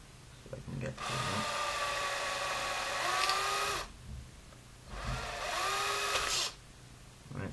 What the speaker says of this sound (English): I'm going to need to drill this hole through